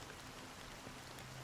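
Steady rain falls in the video game Honkai Star Rail, a soft continuous hiss of drops at moderate level with no talk over it.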